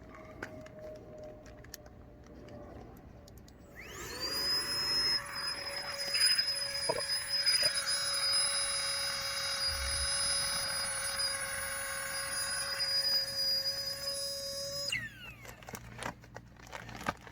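A pump inflates a Naturehike Cloud Peak 2 sleeping mat, a steady, fairly loud electric whine and airy rush that starts about four seconds in, runs continuously for roughly eleven seconds, then cuts off.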